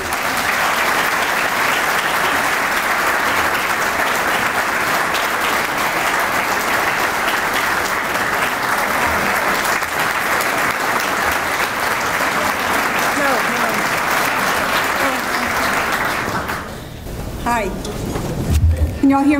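A conference audience gives sustained, steady applause to welcome a keynote speaker at a charity celebration event. The clapping fades near the end as a speaker begins talking.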